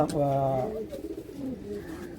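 A prize-winning racing pigeon coos nearby in a low, throaty rolling call, followed by softer murmuring coos, with a voice talking faintly in the background.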